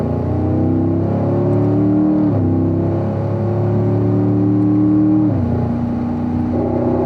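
A car's engine drones loudly while it accelerates on a warm-up lap at Spring Mountain Raceway. The pitch climbs steadily, then drops at two gear shifts, heard close and continuous with no talk.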